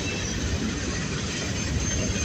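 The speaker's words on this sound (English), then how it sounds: "Oh wow, we got the train meets." Union Pacific freight train at Sacramento, California, led by a Denver & Rio Grande Western heritage locomotive, rolling past with a steady loud rumble and wheels squealing throughout, close by with no talking.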